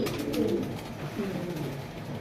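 Soft, low pigeon cooing close by, a couple of throaty rolling calls over quiet background noise.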